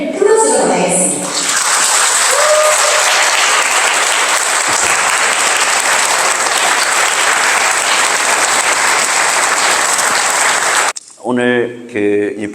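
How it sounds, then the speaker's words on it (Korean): An audience gives loud, sustained applause to welcome a ventriloquist at a church-hall show, dense clapping for about ten seconds before it stops and voices take over. "그러면 오늘 최고의 보컬술사 안재훈 선생님을 큰 박수로 맞이하겠습니다."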